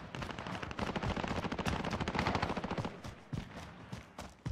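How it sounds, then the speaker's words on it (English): Rapid automatic gunfire in the video game Warzone, dense bursts of loud repeated shots that thin into scattered single cracks toward the end. "right towards gunfire, it sounds like."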